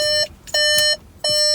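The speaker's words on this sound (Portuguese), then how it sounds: "Vocês vão ver como é feio essa confirmação sonora do alarme do Paulo." Car alarm arming confirmation beeps from a 2023 VW Polo GTS: three loud, harsh electronic tones, each about a third of a second long with a bright buzzy edge, separated by short gaps, heard close up with no talking.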